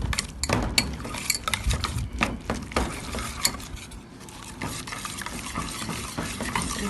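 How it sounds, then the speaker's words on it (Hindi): Egg being whisked into churro dough in a bowl, a busy run of scraping, clicking stir strokes at close range with uneven rhythm and no talking. "अभी आप इसको अच्छे से विस्क कीजिए."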